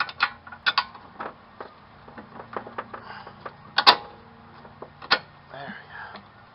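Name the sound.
ratchet tightening strut mount nuts, Toyota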